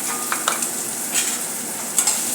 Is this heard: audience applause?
no